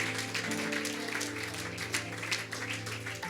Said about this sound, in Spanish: ¿Cuánto le da un aplauso fuerte a Él?